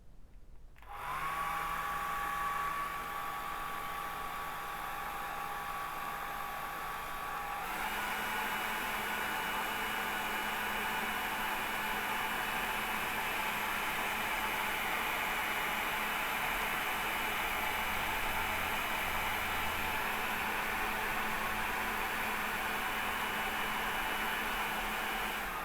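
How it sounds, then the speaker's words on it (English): A hair dryer drying a watercolour painting of a robin blows with a steady loud whoosh and motor whine for about 25 seconds, shifting pitch once when the setting changes. "let's just dry this off because I want to work on the robin carefully"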